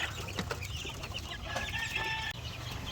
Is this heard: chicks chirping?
yes